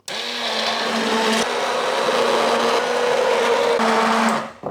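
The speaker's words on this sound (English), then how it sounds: "So little blender comes next, and I'll blend this until it becomes lovely and smooth" Small blender whirring through cauliflower soup until smooth, a loud continuous motor drone with a slight pitch dip near the middle, running alone for several seconds before cutting off.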